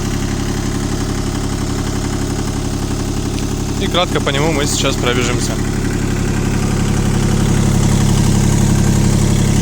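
A Kubota L120 mini tractor engine idles with a steady, low, throbbing drone that holds evenly throughout, while someone talks over it partway through.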